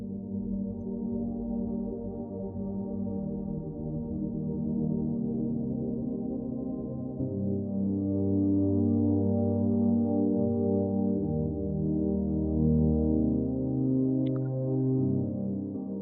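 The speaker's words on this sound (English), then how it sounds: "The pads individually sound like this." Layered spacey synth pads hold sustained, smooth chords that shift partway through to a fuller, deeper voicing, steady and moderately quiet with no voices or percussion.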